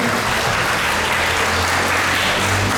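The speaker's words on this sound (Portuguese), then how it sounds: "Vamos aplaudir." Applause from a church congregation at a children's Sunday Mass fills the space, loud and continuous, with dense overlapping claps and no voices on top.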